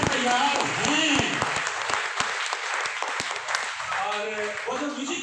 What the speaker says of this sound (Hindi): Are you excited? तो ताली बजा के बताइए सर अगर तैयार हैं।